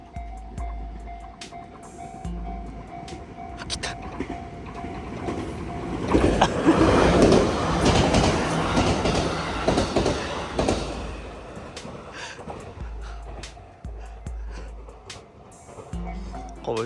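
A train rolls along railway tracks on an outdoor walk with a dog, rising to a loud, broad rumble mid-clip and fading away again, with no talk over it.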